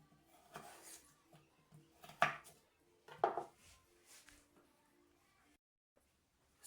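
A knife cuts through a potato on a chopping board in a home kitchen, giving a few quiet, separate crisp chops with gaps between them, close by and soft, with no one speaking over them.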